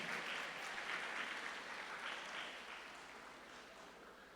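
Sustained, steady applause from a lecture audience welcoming sociologist and lawyer Dr. Hugo Zemelman, a dense, even patter of clapping that fills the whole stretch and fades slightly toward the end, with no voices over it.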